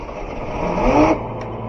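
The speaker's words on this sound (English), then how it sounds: "See if we can get it up on high idle a little bit." A Jeep CJ-7 engine running at idle and then revving slightly higher toward high idle, with a steady, close mechanical drone that swells briefly before settling back, with no talking.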